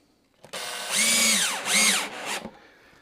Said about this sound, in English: Now again, I install the screws and then remove them